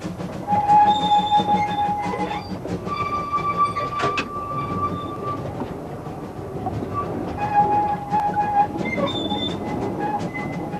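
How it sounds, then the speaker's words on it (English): A steam train runs on a heritage railway through countryside. The rolling clatter of the carriages is steady throughout, with squealing tones from the wheels rising and fading over it. "get a glimpse of what promises to be a very attractive journey through beautiful countryside behind a steam engine"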